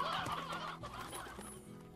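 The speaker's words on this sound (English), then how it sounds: "Look at all these chickens." Chickens cluck in the video game Slime Rancher, a cluster of fairly near, choppy clucks and calls that thin out toward the end, with no talking.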